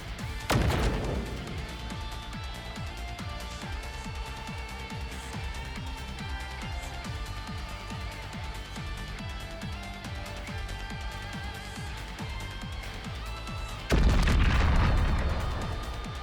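A bomb detonates in an animated movie: one loud, booming blast at the start and another heavy burst near the end, with continuous music playing between them.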